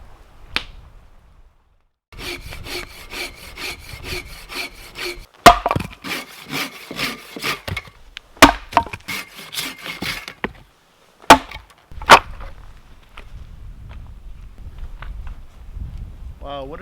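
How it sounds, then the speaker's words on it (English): Firewood is cut with a rhythmic rasping saw in a windy autumn forest in Ontario, the strokes running in bursts, broken by sharp cracks of splitting wood and a few thuds, with quieter stretches between. "Cut and split a lot of wood."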